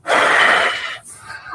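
A loud, close breath picked up by a microphone: one strong, rough inhale or gasp lasting about a second, then a quieter, softer breath trailing off, with no talking.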